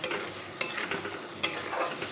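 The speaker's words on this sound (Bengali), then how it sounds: "এবার নেড়ে চেড়ে নেব কিছুক্ষণ।" Spiced pointed gourd (potol) curry being stirred in a pan, a soft sizzle under a few scraping strokes of a spoon, close and fairly quiet, with no voices.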